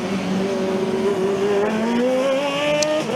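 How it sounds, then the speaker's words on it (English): A race car circulating in an endurance event, its drivetrain clicking while coasting, comes across as a steady engine tone with rising and falling harmonics and some tire noise, fairly close and loud throughout. "They're clicking from the Aachen car."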